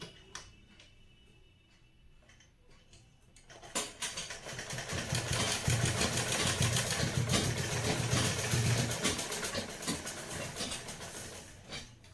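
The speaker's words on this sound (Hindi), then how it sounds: "अब इसको हम सिलाई कर लेंगे।" A sewing machine stitches a suit. Quiet handling comes first, then the motor whirs steadily for several seconds and stops near the end.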